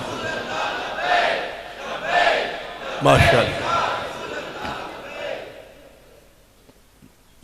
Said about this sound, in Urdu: یہ جو نعرے ہوتے ہیں بڑے پیارے ہوتے ہیں،